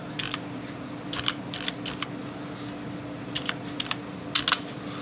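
Keys on a computer keyboard are tapped in short clusters of quick clicks, separated by pauses, over a steady low hum, close and fairly quiet, with no voices.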